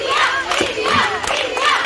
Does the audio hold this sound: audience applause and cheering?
yes